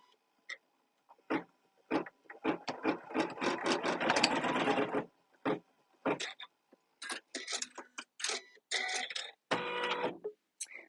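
An embroidery machine stitches down a zipper held in the hoop, with quick rhythmic mechanical tapping in short bursts and pauses, then a denser stretch of steady stitching, close and fairly quiet.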